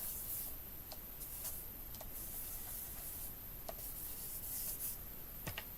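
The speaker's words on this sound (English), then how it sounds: "We're going to go in with our embossing powder. I'm sorry, our embossing buddy." An embossing buddy rubbed over card, heard as quiet, close scratchy strokes and soft ticks repeated irregularly against a faint hiss.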